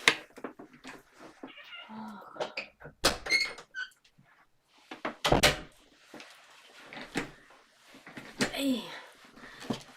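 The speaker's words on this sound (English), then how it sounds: "These cats, they do bring so much love and joy, Shruti" A cat indoors meowing a few times and moving about, with scattered knocks and door-like bumps, close and intermittent beneath a person talking.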